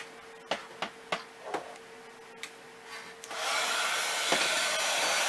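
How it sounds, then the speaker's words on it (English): An embossing heat gun aimed at embossing powder switches on after a few light taps and knocks, then blows with a steady, fairly loud whoosh to the end. "Let me bring my embossing gun."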